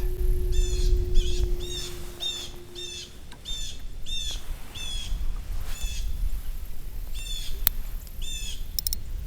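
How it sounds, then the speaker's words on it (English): A bird calls repeatedly in short, strained, distressed-sounding notes at a steady pace, over a low outdoor rumble and a brief steady tone. "This bird sounds a little distressed."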